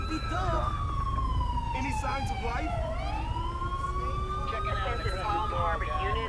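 Ambulance sirens wail in GTA 5 at a police incident scene, several sirens rising and falling together, loud and steady over constant engine and street noise.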